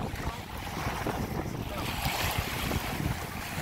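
Waves and gusty wind at Sakota Beach, a continuous broadband wash with microphone wind buffeting, steady and fairly loud throughout.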